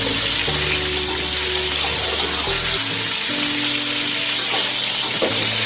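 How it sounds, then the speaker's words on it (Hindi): Sliced potatoes stirred in hot frying oil give a loud, continuous sizzle and crackle with a steady spattering hiss throughout, and low musical tones run underneath. "आलू को थोड़ा सा मिक्स करेंगे तेल में अच्छी तरह से।"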